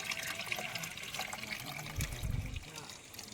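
Water flows steadily from a freshly cleaned hand pump (poso), with a continuous splashing trickle close by and low thumps of the pump underneath.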